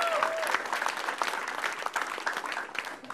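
Applause from the audience at a televised stand-up comedy battle fills the room as dense, lively clapping with some crowd noise, loud and close, rising and falling slightly throughout.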